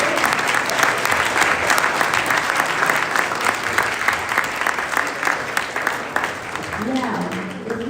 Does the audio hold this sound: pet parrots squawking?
no